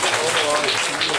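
A short, dense burst of audience applause at a children's science show about magnetism, spread evenly over a single moment.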